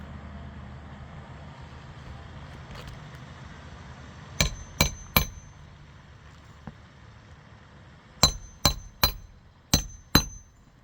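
A hammer drives a nail into roof shingles during a repair: three sharp, close strikes come in quick succession, a pause follows, then five more ringing blows, with no talking.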